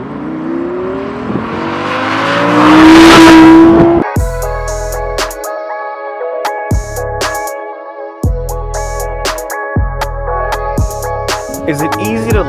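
Audi R8 Spyder engine roaring loudly, revving up to a peak, then a run of sharp gear-shift blips and pops as the car accelerates hard, close and loud with no talk.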